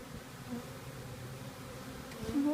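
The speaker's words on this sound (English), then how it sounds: "Carefully brushing them into the hive, and then we're going to close it up." Honeybees being brushed into a hive make a faint, close buzzing hum that rises slightly toward the end.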